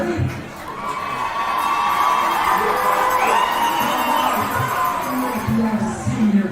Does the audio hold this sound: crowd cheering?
yes